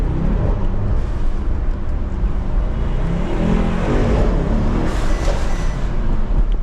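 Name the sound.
sports car engine revving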